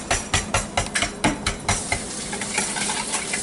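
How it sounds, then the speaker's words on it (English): Two cracked eggs are whisked for blueberry scones, a close run of quick rhythmic taps and scrapes against a bowl, sharp at first and then settling into a softer, continuous beat, with no speech. "Crack our 2 eggs, and then we're going to scramble them up with the whisk"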